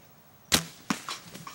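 A hunting bow is shot at a deer during open bow season, a single sharp twang of release followed by a few quieter thuds and rustles, close and otherwise quiet, with no talk.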